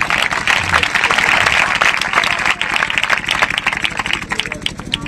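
A church audience at a Christmas service claps together in a steady, dense rhythm. The clapping stays loud and continuous throughout, with some crowd voices mixed in.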